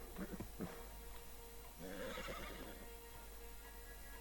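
A horse neighs in the Red Dead Redemption 2 video game, a clear whinny at moderate distance following a few hoof clip-clops, set against steady outdoor ambience with no speech.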